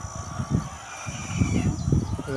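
Many chickens cluck and squawk together in a dense, overlapping chorus inside a poultry shed holding 5,000 birds, with a steady hum of background noise.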